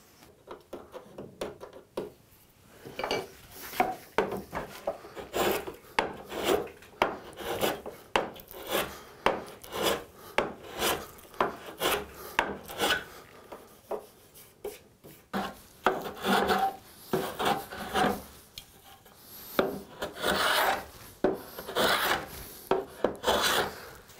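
Rhythmic rasping strokes of a hand plane shaving wood on a bedside table drawer, worked left-handed; a steady run of close, repeated passes with brief pauses between bursts, no talking.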